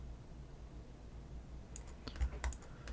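Several sharp key presses on a computer keyboard, clustered in the second half, clicking quietly and close over low room hum while editing in DaVinci Resolve 16.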